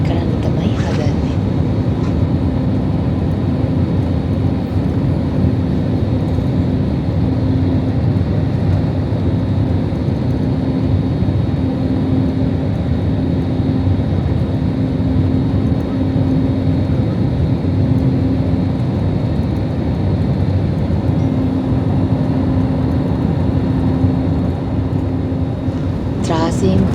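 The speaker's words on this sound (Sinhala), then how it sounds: "දැන් අපි මැලේසියා වලට ලෑන්ඩ් කරන්න තමයි හදන්නේ." Jet airliner cabin during landing approach into Malaysia, a loud steady roar of engines and airflow filling the whole stretch, with a faint tonal hum running through it and no clear talking.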